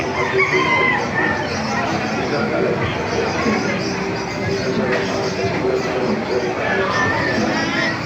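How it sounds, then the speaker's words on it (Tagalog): Chickens cluck steadily in the background with a rooster crowing at a market in Calumpit, while someone talks over the birds. "Ganda ng mga manok mga kamasan."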